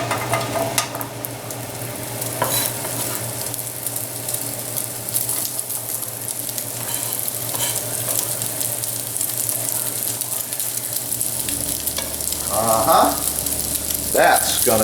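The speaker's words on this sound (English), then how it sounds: "The pancetta goes in the pan." Pancetta fries in olive oil in a hot pan, giving a steady, close crackling sizzle throughout, with occasional stirring scrapes and a brief clatter near the end.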